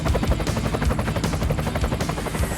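Rapid pulsing thump of a helicopter's rotor, loud and close, beating steadily throughout with no speech.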